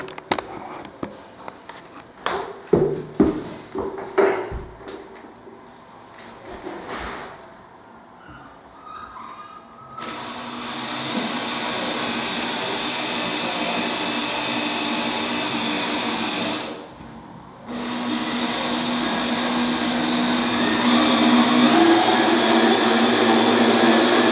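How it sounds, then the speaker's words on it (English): A power drill drives screws into a floor joist during joist reinforcement work, giving a loud, steady whirring buzz that runs in long stretches with a short pause, after several sharp knocks and clatters near the start. "Found a better screw bit. Screw this one down here."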